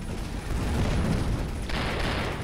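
A sustained barrage of rapid weapon fire from an enemy ship's fast-firing gun in the space game Avorion keeps up a dense, steady roar of overlapping shots, loud and close, with no voices.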